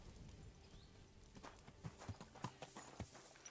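Horse hooves clip-clopping at a walk in the video game Kingdom Come Deliverance 2, a handful of soft, evenly spaced thuds over low ambient game noise.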